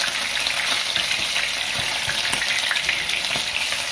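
Steady, loud sizzling of cutlets frying in a pan, a continuous crackling hiss with small pops throughout and no voices.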